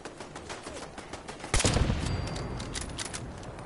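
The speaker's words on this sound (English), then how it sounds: "he's actually being shot at by the turret, but the turret is also shooting at me" A hostile turret in Fallout 4, survival mode on PS4, opens up with rapid automatic gunfire. After a lighter stretch a loud, dense burst breaks out and stays sustained and close to the end.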